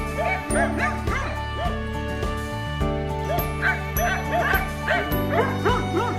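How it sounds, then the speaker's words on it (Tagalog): Several big dogs bark repeatedly in overlapping bursts in the Czech Republic, fairly loud and close, with a sustained tonal drone running underneath. "Grabe, ang lalaki ng aso dito."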